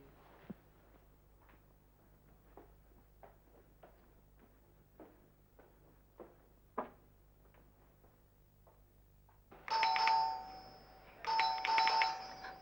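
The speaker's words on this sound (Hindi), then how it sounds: "आगे कौन है पता नहीं कितना घंटी बजाएगा।" After several faint footstep-like taps indoors, an electronic house doorbell rings twice in quick succession, loud and bright, with a short gap between the two chimes.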